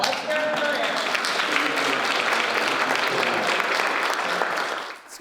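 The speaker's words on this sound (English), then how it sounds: "Let's hear it for Eric." People at a coaching event applaud a speaker with steady, dense clapping that holds evenly for about five seconds before tapering off.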